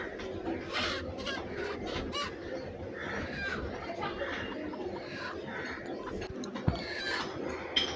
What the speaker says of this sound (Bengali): আমরা মুরগিগুলোকে বের করে দিলাম